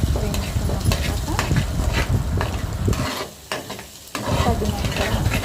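Egg rice fries in a pan with a loud, dense sizzle broken by repeated scraping and clinking of a ladle as it is stirred, with a short lull midway before the hiss returns.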